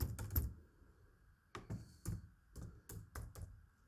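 Quick bursts of keystrokes on a computer keyboard while entering text into an HTML form, a few clustered taps, a pause, then more irregular clicks, close and quiet.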